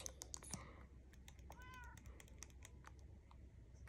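A short Minecraft cat meow on a Nintendo Switch sounds briefly over rapid keyboard clicking and a low background drone.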